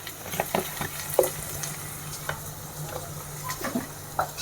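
Chhole masala with a spoonful of turmeric powder sizzling in a pan while a spoon scrapes and stirs it, giving irregular close scraping taps over a steady low frying hiss.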